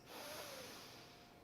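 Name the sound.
breathing in through the nose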